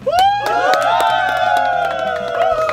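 A crowd shouts and cheers together in a loud, sustained roar of rising voices, joined by sharp claps and whoops, close and energetic from start to finish.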